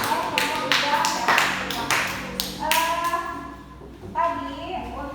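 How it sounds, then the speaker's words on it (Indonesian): A classroom group gives quick, uneven applause for a student group, with scattered claps rising and falling among children's voices. "kita berikan tepuk tangan untuk kelompok 2"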